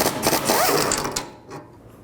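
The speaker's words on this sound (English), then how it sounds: "Just use some locking pliers on the stud and take this nut off. Use a 16mm socket." A 16mm socket spinning off a sway bar link nut on a 2004-10 BMW X3: a close, fast mechanical whirring buzz for about a second, then tapering off into quiet with no voices.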